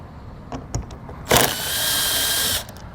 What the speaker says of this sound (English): we're going to have to take a 10mm socket and remove these 2 bolts here